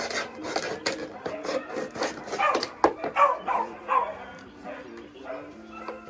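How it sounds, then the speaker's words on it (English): Dogs bark repeatedly in sharp bursts, fairly close, with scraping and rubbing noises mixed in. "Dogs is barking at me with no problem."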